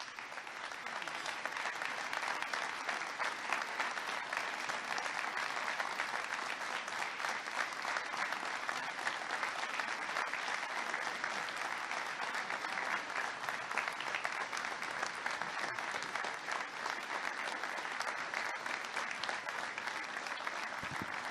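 A large audience at a presidential event on the opioid epidemic applauds steadily for about twenty seconds, dense continuous clapping heard at a distance without letup.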